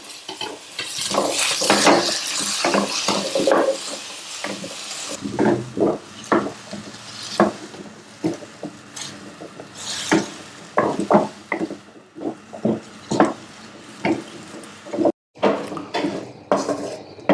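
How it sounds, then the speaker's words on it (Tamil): Onion and tomato sautéed in a dry pan without oil for a Kongu-style trevally fish curry, with repeated loud scraping and stirring strokes of a spoon against the pan, brief sizzling and clattering, and no one talking. "இந்த வெங்காயம் தக்காளியும் வதக்கி எடுத்துக்கும்."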